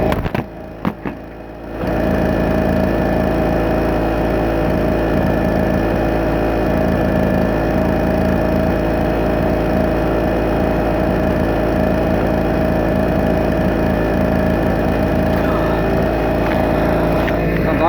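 A Power Craft 650W portable generator sputters through a cold start, then settles into a loud, steady, buzzing run close by for the rest of the stretch.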